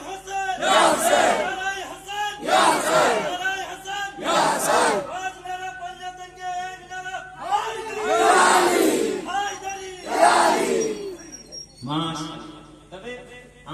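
A crowd chants the religious slogan Naara-e-Haidari, Ya Ali in loud, rhythmic unison, with regular bursts of massed voices rising and falling over several repetitions and a shorter shouted call near the end.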